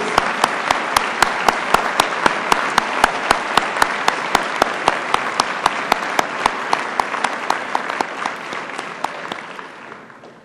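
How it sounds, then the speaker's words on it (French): An audience at a 2013 university graduation ceremony applauds a new doctoral graduate, dense sustained clapping from a large crowd with a steady rhythmic pulse, loud at first and gradually fading out. "Applaudissons encore une fois notre nouveau diplômé de doctorat Cadeau Meiris."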